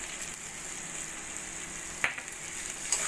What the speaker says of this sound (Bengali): চিকেন দিয়ে প্রায় 5 মিনিট মতো একদম যতক্ষণ না চিকেনগুলো বেশ ভাজা ভাজা হচ্ছে ততক্ষণ আমি কষিয়ে নিয়েছি।